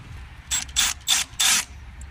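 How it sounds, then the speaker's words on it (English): Ratchet wrench loosening bolts from a bracket on a Mercedes E220, four quick bursts of rapid clicking close by, each about a quarter second, with short pauses between. "now I'm going to remove these bolts to get this bracket off"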